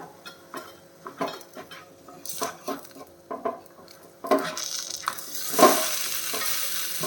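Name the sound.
flipping a ragi bun dosa in a pan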